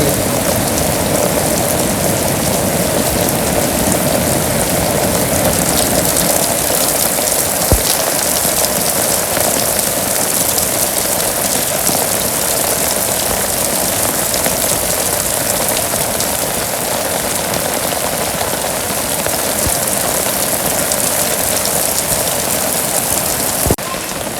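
Steady light drizzle patters over a Bangladeshi village for a long stretch, with a faint low engine-like rumble underneath and occasional distinct drops.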